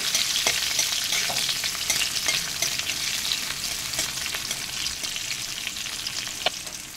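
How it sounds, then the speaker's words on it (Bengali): Chopped tomatoes and green chillies fry in a pan for Bengali korola posto, giving a steady, close, hissing sizzle with occasional light scrapes and clicks of stirring. "এইবার দিয়ে দিচ্ছি কেটে রাখা টমেটো। টমেটোগুলোকে একটু হালকা করে ভেজে নেব।"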